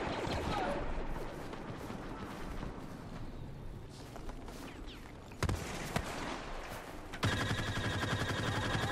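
Dense, continuous blaster gunfire from Star Wars Battlefront with explosions and sharp bursts, layered over a busy electronic soundtrack and effects.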